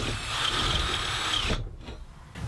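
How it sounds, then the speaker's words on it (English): A small drill bit bores a hole in a copper pipe cap, a loud, steady whining buzz with a faint rising pitch that abruptly cuts off, followed by a few quieter rattles. "I'm going to start out with a small drill bit, that way I know I can get the hole in the right spot"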